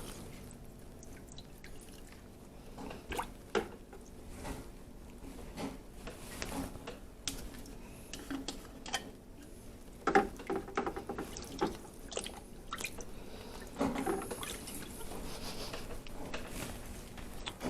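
Homebrewing equipment is rinsed under running water, with quiet dripping and trickling, occasional rubbing and clunks of gear being handled, and brief splashy bursts. No voices.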